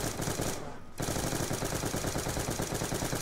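Rapid automatic gunfire from a gun in Black Ops 2 Zombies rattles on steadily, broken by one short pause and then resuming in a continuous fast burst.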